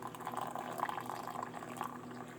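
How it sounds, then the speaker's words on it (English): Pine needle tea being poured from a Bialetti-style pot into cups holding honey, a continuous gentle liquid trickle and splash at moderate volume with no voices. "I'm pouring it into some cups, and there's honey in the cups"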